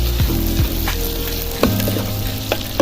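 Oil sizzles and crackles steadily as curry leaves fry for tempering, with a few stirring scrapes, close by, with no voices.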